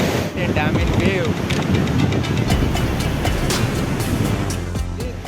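Waves wash against the shore of the Hemavathi Reservoir backwater while water is being released from the dam. The surf is a continuous, full rushing sound, buffeted by heavy wind noise, with faint voices mixed in.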